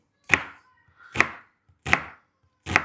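Four sharp, evenly spaced knife chops strike a cutting board close up while cutting an onion, each a crisp thud separated by quiet pauses.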